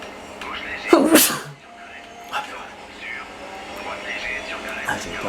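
One loud, sharp sneeze bursts out near the start over game engine noise from a Dirt 3 racing session, followed by quieter murmured speech and soft breaths.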